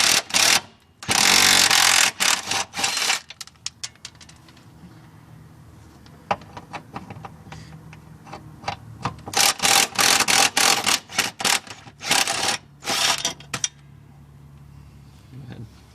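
Ratchet clicking as bolts on a Ford Mustang's transmission cross member are loosened under the car, with the transmission supported on a jack. Bursts of rapid metallic clicks come and go across the span, with quieter tool handling between them.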